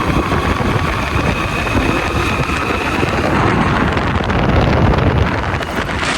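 A Farmtrac tractor engine runs steadily outdoors, its continuous rumble mixed with wind buffeting the microphone; there is no talking.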